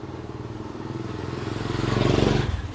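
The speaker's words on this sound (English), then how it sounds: "Policeman on his motorcycle." A police motorcycle passes along a city street near the moat, its engine putting out a rhythmic chugging that swells louder as it nears and then eases off.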